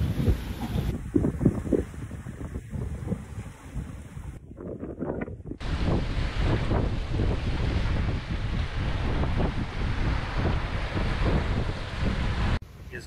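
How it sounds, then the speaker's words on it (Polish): Strong wind of about 11 knots buffets the microphone aboard a sailboat motoring with its sail unfurled to escape a storm off Naxos heading for Lavrio, with a steady roar and waves washing against the hull. "Teraz wiatr jest w okolicach 11 węzłów"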